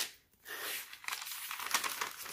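Notebook paper, a fountain-pen-friendly kind, is crinkled and handled up close, quiet at first, then soft irregular crackles and rustles that build in bursts.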